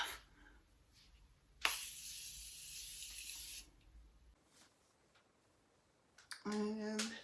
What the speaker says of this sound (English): Now I'm going to take my Morphe setting spray, continuing setting mist.